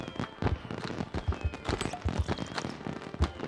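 Video-game fireworks launching repeatedly in Civilization VII, a run of sharp pops and crackling bursts coming in irregular clusters at moderate loudness, with no talk over them.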